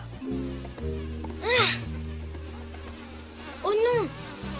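Bees from a hive flit around in an animated African tale, their buzzing rising in two louder swells over a steady low musical score.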